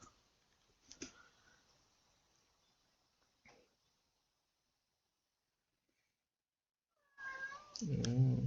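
A house cat meows near the end, a couple of rising, close calls that follow long stretches of near silence broken by faint clicks and taps.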